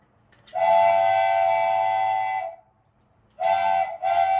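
A train whistle gives two loud, clear, steady tonal blasts close by. The first lasts about two seconds, and a shorter second blast follows after a brief pause.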